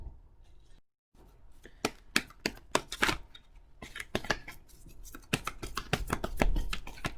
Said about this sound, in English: So I'm now going to shuffle from the Energy Oracle.